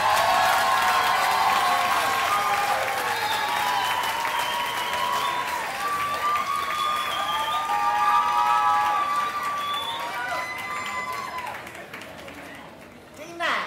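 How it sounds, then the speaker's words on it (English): A commencement crowd gives sustained applause for public policy master's graduates at a 2010 university ceremony, a dense steady roar of clapping with cheers and voices mixed in, fading near the end. "Let's have a big round of applause for all the MPP graduates."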